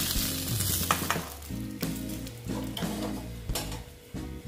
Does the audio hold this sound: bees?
no